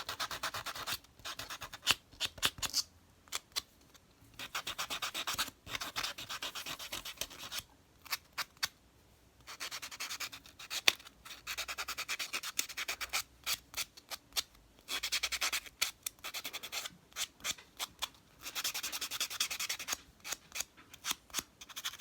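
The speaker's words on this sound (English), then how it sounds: "now I'm going to go ahead and buff the nail" A small handheld nail buffer rubs back and forth across a fingernail during a dip powder manicure, giving soft, close, scratchy strokes in quick bursts separated by brief pauses, with no voices.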